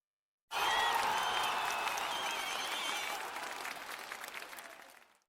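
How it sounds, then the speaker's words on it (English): An interview show's audience bursts into applause as a guest leaves the stage, a sudden full wash of many hands clapping that holds steady, then slowly thins and fades away. "Let's give her one more big round of applause as she steps off the stage."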